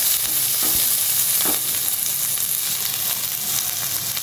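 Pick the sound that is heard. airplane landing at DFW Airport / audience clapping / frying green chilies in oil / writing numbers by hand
frying green chilies in oil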